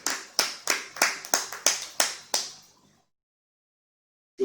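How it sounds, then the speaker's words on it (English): A congregation claps for themselves at a church service, about nine sharp unison claps in an uneven rhythm, each ringing briefly in the hall before fading into silence; a voice starts at the very end. "I said clap for yourself."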